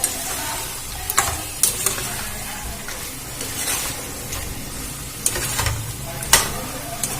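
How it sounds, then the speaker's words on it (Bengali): Marinated chicken meat fries in a pan while being stirred, a continuous sizzle broken by repeated scraping and clinking strokes of the spoon against the pan. "মাংসটা দিয়ে আবারও ভালো করে একটু ভেজে নেব, ভালো করে নাড়াচাড়া করে।"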